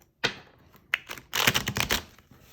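Tarot cards being shuffled by hand during a reading, a crisp burst of riffling followed by a longer run of rapid, close flutters and taps, fairly loud with no talking.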